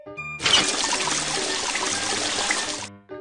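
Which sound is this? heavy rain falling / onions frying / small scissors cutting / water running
water running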